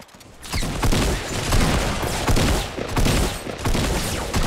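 Gunfire in the Fortnite video game, a rapid, loud fusillade of repeated shots in dense bursts with short pauses, continuing through the whole stretch.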